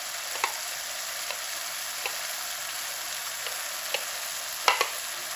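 Liver masala with onions and yogurt frying in oil, a steady sizzling hiss with occasional soft pops and spoon taps, no voices.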